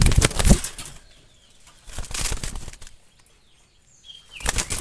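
Wild Jalali pigeons flap their wings in bursts, with loud, close fluttering wingbeats separated by quieter pauses.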